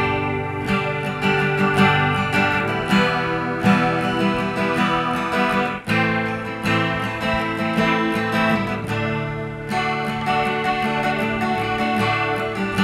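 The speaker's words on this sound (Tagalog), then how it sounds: "Try naman natin yung tunog ng chorus." An electric guitar through the chorus setting of a Behringer digital multi-effects unit plays sustained chords with a shimmering, doubled tone, steady and upfront with no voices.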